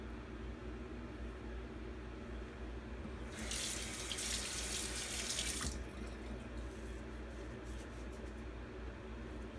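Tap water running into a sink while washing off shaving soap during a wet shave, a steady hissing splash that starts abruptly, holds for about two seconds and cuts off, over a low background hum.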